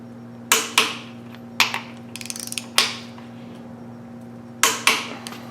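A ratchet tightens main cap bolts on a Pontiac 455 engine in several short, close ratcheting bursts, including a quick run of rapid clicks in the middle, with quiet pauses in between.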